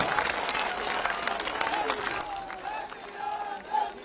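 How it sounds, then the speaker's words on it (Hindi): A crowd at a political rally in Amer, Jaipur applauds loudly for UP Deputy CM Keshav Prasad Maurya, dense clapping and cheering up close at first, then easing as a voice speaks over it. "जोरदार केशव प्रसाद मौर्य जी के लिए जोरदार तालियां।"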